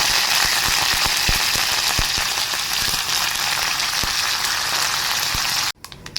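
Continuous crackling sizzle of mustard seeds and urad lentils frying in hot oil, with scattered louder pops, ending in a sudden cutoff.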